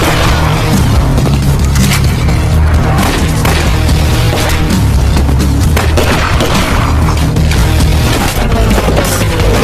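Gunfire and explosions from a fight scene in an action film form a dense, loud, continuous barrage, with booms and crashing impacts layered over a heavy rumble throughout.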